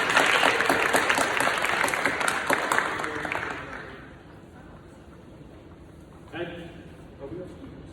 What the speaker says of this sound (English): give another round of applause for our 7th and 8th grade boys